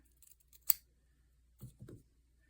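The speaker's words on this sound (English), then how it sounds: "So I'm going to cut it down to probably here." Scissors snip through the elastic of pajama bottoms during sewing repairs, one sharp close cut followed by a couple of softer snips in quiet surroundings.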